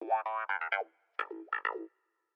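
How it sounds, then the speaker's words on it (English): A cut-up, funk-styled clavinet loop plays in short choppy bursts of bright, plucky keyboard notes, two clusters separated by a brief gap, clear and upfront. "this is just from a clavinet loop"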